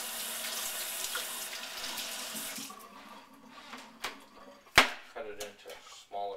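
Produce rinsed under a running kitchen tap while making a green smoothie: a steady rush of water, strongest at first, then broken by splashes and a sharp clatter near the end.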